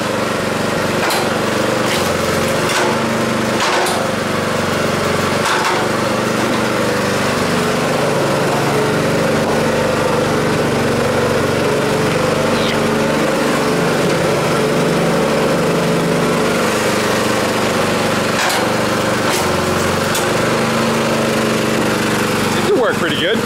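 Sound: engine of a mechanical log splitter running

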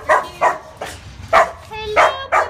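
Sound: puppy barking at animal shelter

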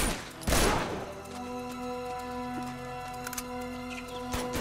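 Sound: gunfire from the Uncharted 2 video game

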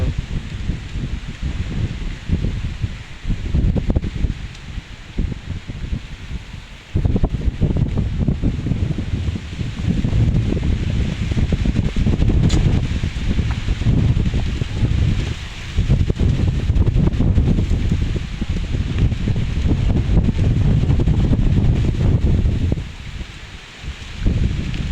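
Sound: strong wind blowing

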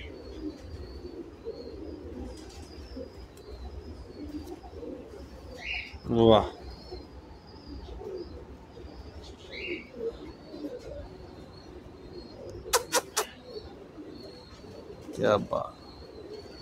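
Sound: pigeons cooing

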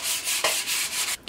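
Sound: sanding a wooden axe handle

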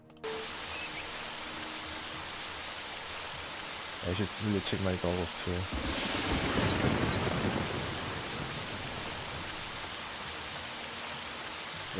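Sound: thunderstorm with rain in Jagged Alliance 2 video game

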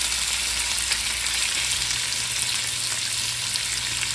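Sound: bacon-wrapped scallops frying in a pan

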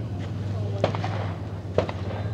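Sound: pistol shots during a speed shooting stage

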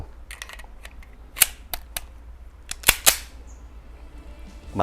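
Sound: SIG P220 pistol gunshots at shooting range

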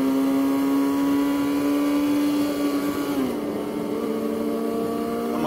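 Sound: motorcycle accelerating while shifting into third gear

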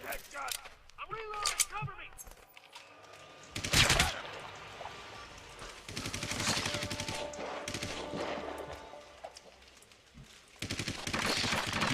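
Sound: machine gun fire in Hitman Absolution video game

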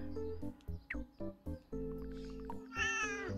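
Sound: cat meowing

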